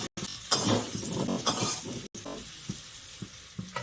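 Chicken cooks in a pan, hissing and sizzling in loud bursts, with scraping stir noises and occasional clinks between them, close up.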